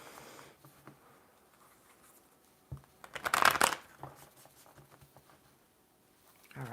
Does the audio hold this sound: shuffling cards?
yes